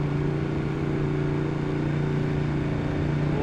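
A Ducati 1199 Panigale fitted with a GP exhaust, ridden at a steady pace, giving a loud, continuous engine drone with a strong low hum and broadband rush and no breaks.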